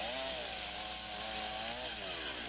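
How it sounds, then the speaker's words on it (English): A chainsaw fitted with a Log Wizard attachment debarks a log, screaming loudly and steadily at close range with a slight drop in pitch partway through as it bites into the wood. "The Log Wizard is a one-of-a-kind chainsaw attachment that can be used for notching and shaping of timbers"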